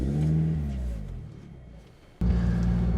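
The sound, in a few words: Lotus Exige sports car driving off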